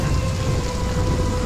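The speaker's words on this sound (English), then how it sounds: "It's just a storm. It'll pass like it always does." Steady heavy rain and rolling thunder from a thunderstorm, a dense continuous roar with low rumbling underneath, loud and close with no voices.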